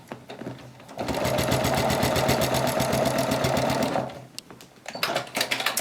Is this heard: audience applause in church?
no